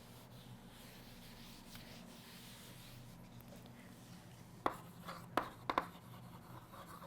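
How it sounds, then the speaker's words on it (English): Handwritten notes go down on paper, a soft continuous scratch and rub of pen strokes over a low background hum, then a few sharper taps and scrapes near the end, with no voices. "so I'll just write it over here."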